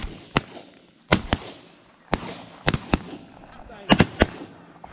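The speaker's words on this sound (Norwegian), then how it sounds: "Nå må skuddene sitte," Shotgun shots ring out during a goose hunt in Norway: about nine sharp, loud blasts, some single and some in quick pairs or triplets, each followed by a short echoing tail.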